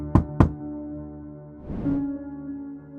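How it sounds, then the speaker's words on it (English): Two sharp knocks on a door land close together at the start, followed by a swelling low musical drone that lingers quietly afterward. "they suddenly heard a knock on the door"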